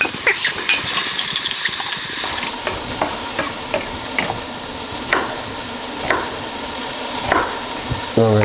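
Beef colouring in a pan for a Guinness and steak stew, a steady close sizzle broken by repeated scraping and stirring strokes about once a second.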